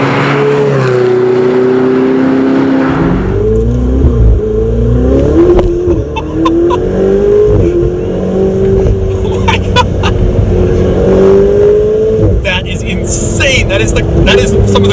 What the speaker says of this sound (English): Oh, that's the turbo really kicks in.